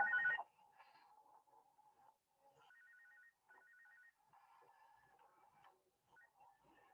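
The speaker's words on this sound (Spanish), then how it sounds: "cuando sonó su teléfono portátil" A mobile phone's portable handset ringtone plays as a melodic electronic tune of repeated short beeping phrases, fairly faint, beginning with a brief louder burst and with no voices present.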